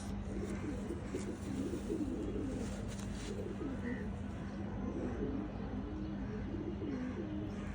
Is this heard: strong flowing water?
no